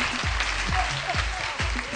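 Studio audience applause on a French-language TV game show, a moderate wash of clapping with a few low thumps and murmuring voices layered over it in a short burst.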